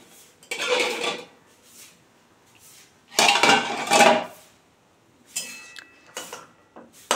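A metal lid comes off a cooking pot of Medinipur-style fish tak, producing clattering, clinking bursts of metal against metal separated by quiet pauses, close and fairly loud.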